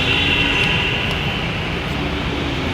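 A Delhi metro train rolls along with a steady, loud rumbling roar and a faint high whine, the carriage noise continuous with no voices.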